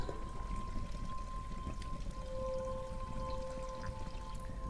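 Water pours steadily in a video game scene, a continuous splashing wash with a faint dripping edge and a sustained tonal hum underneath, with no talking.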